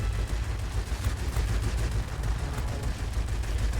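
Guns on an XP-50 aircraft in World of Warplanes fire in a dense, rapid stream over a steady low engine drone. The burst carries on loudly through the whole stretch.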